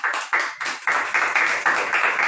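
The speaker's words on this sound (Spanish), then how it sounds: "Den un fuerte aplauso a Cristo." A church congregation claps together in a burst of applause, rhythmic and fairly loud, lasting a couple of seconds with no talk over it.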